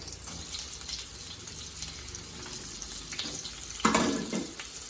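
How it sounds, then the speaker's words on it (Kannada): Two medium onions go into hot oil for a mutton curry, a faint, steady sizzle that flares into a louder burst of crackling near the end. "ಎಣ್ಣೆ ಬಿಸಿ ಆಗಿದೆ ಇವಾಗ ನಾನು ಇದಕ್ಕೆ ಮೀಡಿಯಂ ಸೈಜ್ ಎರಡು ಈರುಳ್ಳಿ ಹಾಕೊಳ್ತಾ ಇದ್ದೀನಿ"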